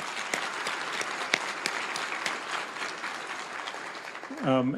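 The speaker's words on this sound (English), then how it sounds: "let's give them a round of applause" A room of people at a medical school Match Day gives steady, sustained applause, a continuous patter of many hands with a few sharper claps standing out, before a voice begins speaking at the end.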